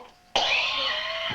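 Elderly man coughing once, a sudden harsh, throaty cough that starts after a quiet moment and trails off with a rasping breath, close by.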